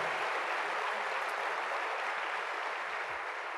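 A congregation claps in church during a Spanish-language service, a soft, steady wash of many hands that sounds fairly distant and holds at one level from start to finish.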